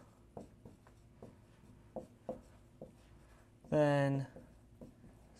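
Chalk tapping and scratching on a lecture board in a short run of sharp, separate strokes, with a brief spoken word breaking in partway through.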